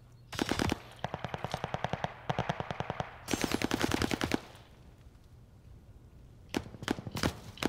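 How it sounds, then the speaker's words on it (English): Video game gunfire in Call of Duty: Vanguard comes as several rapid automatic bursts, loud and close, with short pauses between them, then a lull and a few more quick shots at the end. "What are you shooting at?"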